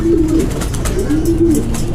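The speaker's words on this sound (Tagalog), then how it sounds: "Silipin mo natin itong mga naiwan kalapati dito." Racing pigeons coo repeatedly in low, throaty rolling calls, close by and fairly loud, over a constant rustling background.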